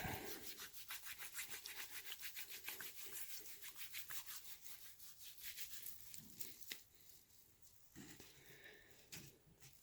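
Seasoning rub being worked by hand into a 60-day dry-aged steak, a close, quiet, rhythmic rubbing and scraping repeated over and over, with no talk.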